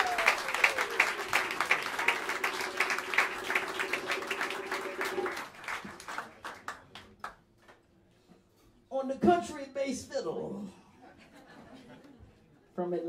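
Audience applause fills a small New York jazz club, a dense wash of claps that thins into scattered single claps before a voice speaks near the end.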